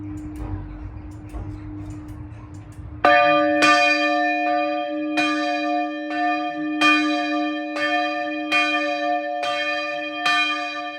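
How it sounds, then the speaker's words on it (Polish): The smallest bell, Saint Peter, of a church in Łódź Widzew, Poland, rings in a slow, regular series of loud, resonant strikes. Each stroke sustains a long ringing tone after a quieter noisy lead-in. "I dzwon, Najmniejszy Święty Piotr"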